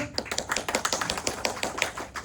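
An audience at a training session claps in a short burst of quick, rhythmic, sharp hand strikes, nearby and fairly thin, as if only a few people join in.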